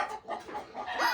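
Chickens clucking in a farmyard, a short burst of several quick, nasal clucks and murmurs close by, rising and falling in a choppy rhythm.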